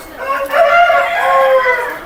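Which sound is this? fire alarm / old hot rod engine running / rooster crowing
rooster crowing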